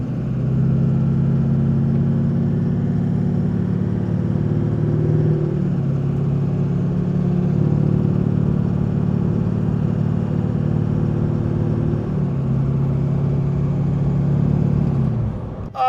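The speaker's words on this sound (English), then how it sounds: "we're gonna hear the turbo because the truck is straight piped" A straight-piped Duramax diesel pickup rumbles loudly and steadily nearby, its deep exhaust drone joined by a faint turbo whistle, with a slight dip midway before the engine note settles again.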